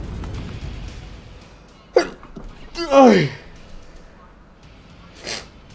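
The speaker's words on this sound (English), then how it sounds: "I sneezed" A single sharp sneeze bursts out mid-clip, close and loud, followed by a short breathy gasp and a quieter exhale later, set against faint room noise during a casual tabletop gaming chat.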